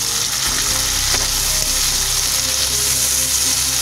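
Tomatoes hitting a hot frying pan for vegetable pulao, a loud, steady sizzle and crackle that fills the whole moment without speech.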